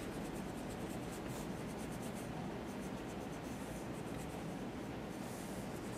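Steady, continuous rubbing of an eraser across paper to remove a pencil line in a perspective drawing, close and fairly quiet, running without pause and with no talk.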